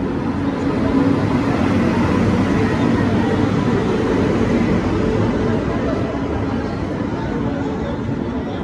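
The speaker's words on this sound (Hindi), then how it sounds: "और ये सामने आ चुकी है हिमगिरी एक्सप्रेस" Himgiri Express, running from Howrah to Jammu Tawi, pulls in at a crowded Varanasi station platform with a steady loud rumble. Broad noise holds throughout, with voices mixed into the din.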